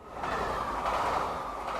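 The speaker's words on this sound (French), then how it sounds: "De Nantes, je prends le TGV pour Paris." Steady rumbling roar of a high-speed train running along the tracks, a dense continuous rush of mid-range noise with no voices.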